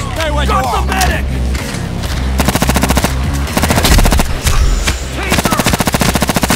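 Rapid automatic gunfire in the video game Payday 2 rattles in sustained rhythmic bursts, loud and close, broken by short pauses amid chaotic game sounds and some shouting.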